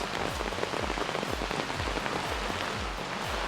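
Heavy rain pours down in a very wet village near the Yana caves, a dense, steady roar of drops drumming on surfaces throughout, loud and close with no voices.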